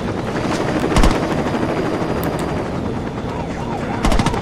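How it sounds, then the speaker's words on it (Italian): A helicopter approaches in the video game Saints Row 2, a steady rotor drone under game noise with bursts of sharp gunfire clustered near the start and end. "Sta già arrivando un elicottero"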